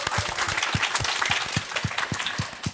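Audience applause at a talk concert with a guitar maker, a brisk round of clapping from a modest crowd heard close, steady and even for the whole stretch.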